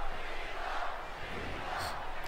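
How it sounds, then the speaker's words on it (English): A video game wrestling crowd in WWE 2K20 chants for John Cena during a match, a dense, roaring arena crowd heard at a distance and sustained throughout. "Getting the crowd behind him. You can hear them chanting, Cena, Cena."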